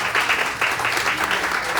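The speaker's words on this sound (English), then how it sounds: "A round of applause for Tony." A town hall crowd in Osage, Iowa claps steadily and fairly loudly throughout, a dense wash of applause with no gaps.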